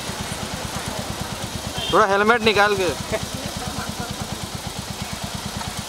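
A motorcycle idles close by with a steady low pulsing throb throughout, while a voice speaks over it briefly in the middle.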